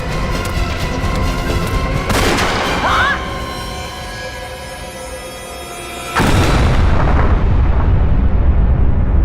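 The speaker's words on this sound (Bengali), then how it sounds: "অভিজিৎ, গুলি করো ওকে।" A gunshot sound effect in the Indian TV crime serial CID lands as two loud, booming bursts a few seconds apart. Each blast is followed by a sustained roar over tonal background music.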